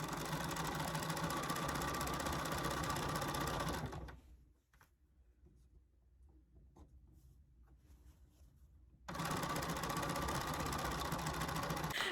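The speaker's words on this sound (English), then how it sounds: "We get to take it to the sewing machine." A home sewing machine stitches pinned color-blocked pant legs, its steady motor whir loud and continuous for about four seconds, then stopping for a quiet pause before running again at full speed to the end.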